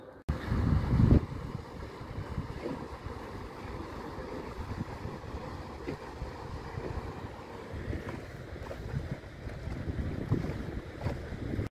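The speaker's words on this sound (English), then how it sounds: "There's a couple of charter boats, LaBoat charter boats, or rental boats coming through that channel behind me." Low, distant engine rumble of large charter rental boats, around 48 feet, moving through a channel on the Rideau Lakes, with gusts of wind buffeting the microphone and faint water wash.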